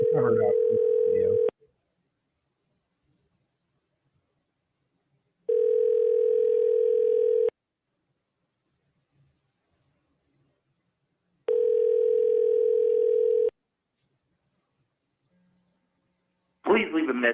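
An outgoing dialer call rings on a telephone line, with two long, evenly spaced ring tones separated by silence. Brief speech sounds at the start and again at the end.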